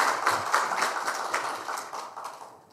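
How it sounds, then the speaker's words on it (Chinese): Audience applause at a lecture hall, a dense patter of many hands clapping that fades steadily over a few seconds, moderately loud with no talking. "对就掌声一下啊"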